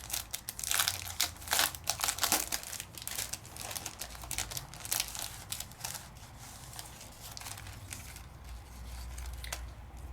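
Packaging of a paper craft collection with ephemera and chipboard die-cut pieces is torn and crinkled open up close, in a busy run of crackling, rustling bursts that thin out toward the end.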